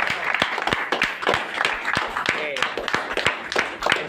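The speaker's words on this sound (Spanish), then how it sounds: "Fuerte el aplauso, por favor." Scattered hand claps from a small audience ring out sharply in an irregular patter, with a voice speaking over them.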